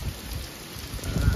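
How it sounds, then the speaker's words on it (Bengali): Heavy rain pours steadily in a broadband hiss, drops pattering on surfaces nearby with a few louder bursts toward the end, no voices. "জোরে সোরে বৃষ্টি, বেশ"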